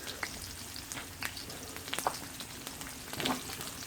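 Fish coated in turmeric, plain flour and veggie salt fries in a pan with a soft, steady sizzle and scattered light pops, and no voices are heard.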